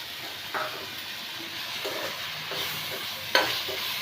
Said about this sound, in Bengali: আমের যে পালটা বের করে রেখেছি সেটা দিয়ে দিলাম সেটা দিয়েও ভালো করে নাড়াবো